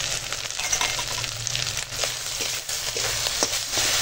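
Tomato, ginger-garlic paste, turmeric, chili powder and salt frying in a pan, a steady close sizzle with scattered crackles and stirring scrapes throughout.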